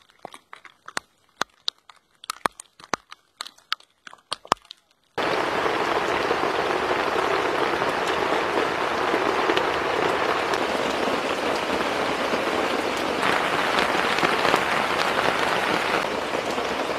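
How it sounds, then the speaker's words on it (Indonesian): Scattered drops tap at first, then heavy rain suddenly pours down on a campsite at New Sekipan, Tawangmangu, a dense steady hiss of rainfall drumming on a tent close by. "Akhirnya hujan juga."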